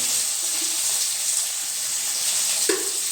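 Onions sauté with a pinch of salt in a pan for a home-cooked Tamil sambar, producing a steady, close hiss of sizzling with a brief stirring scrape near the end.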